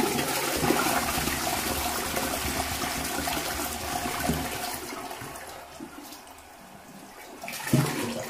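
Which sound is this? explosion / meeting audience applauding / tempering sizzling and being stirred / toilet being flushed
toilet being flushed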